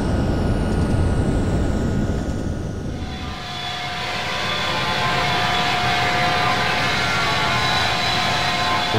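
Jet engines of a C-5 Galaxy spool up in Flight Simulator X: a loud, steady broadband roar with a whining tone that settles into a constant sustained drone after a brief dip, no talking over it.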